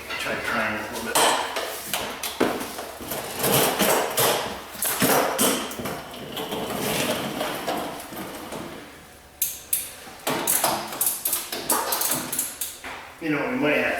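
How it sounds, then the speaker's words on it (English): Air hammer driving out the bell housing pins on a Chevy truck engine in a home garage, a dense rapid rattle of metal impacts running in bursts beneath ongoing conversation. "I'm gonna go with the air hammer on it"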